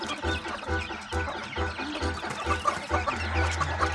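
A chicken about to be slaughtered, one of two birds received as a gift, clucks repeatedly in steady bursts close by, with low rhythmic pulses and a busy outdoor background and no talking.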